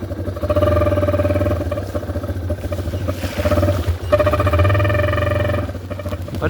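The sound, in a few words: dirt bike engine riding through a ditch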